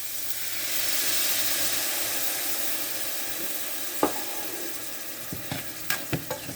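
A loud hiss of tempering sizzling in a hot pan with tomato sauce and water that gradually fades, followed by several sharp clinks and scrapes of stirring.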